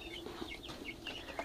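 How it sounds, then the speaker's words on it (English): Young Cornish cross meat chickens on a farm giving soft, faint clucks and short peeps, a few scattered calls over a quiet background. "These are the chicks, the way they're turning out."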